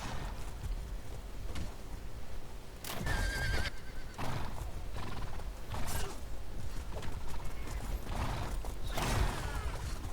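Galloping hooves and a horse's whinny mix with clanking, metallic game effects in a busy, dense soundscape from a War of the Roses video game tournament match.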